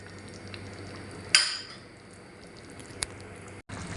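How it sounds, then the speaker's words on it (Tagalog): Adobo with potatoes and oyster sauce simmers in a pot, a faint steady bubbling with a soft utensil clink near the start and another small tap later, no voices. "Ngayon, pakuluan na natin siya ulit ng matagal hanggang lumambot at lumapot-lapot yung oyster sauce."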